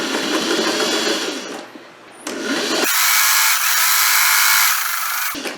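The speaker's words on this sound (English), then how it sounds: "you're going to fold once, fold twice, and you're going to sew. I'm going to back stitch." A sewing machine backstitches a folded fabric hem on a quilted tote bag lining, whirring loud and close in two bursts separated by a brief pause, the second run higher and steadier.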